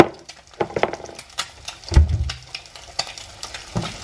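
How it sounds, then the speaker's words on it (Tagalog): An egg fries in hot oil, with crackling sizzle and sharp irregular pops and spatters up close, a few louder bursts standing out over a light background crackle. "Baka matabang ang aking itlog na niluluto"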